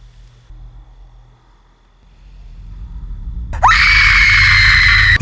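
A woman in a horror film lets out a sudden, piercing, sustained scream after a quiet, low rumbling stretch, loud and close.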